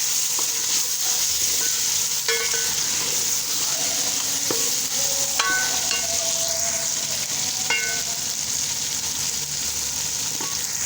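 Ground spices such as coriander and cumin roasting in a frying pan, a loud continuous sizzle and hiss with scattered spoon scrapes and clinks against the pan, close up and uninterrupted by speech.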